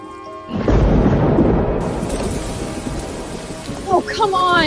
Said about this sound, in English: Why is it pouring now?